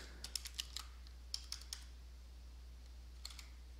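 Light, quick clicks of keys on a computer keyboard as a case number is typed, a short burst, a pause, then a few more taps, close and quiet with no talk.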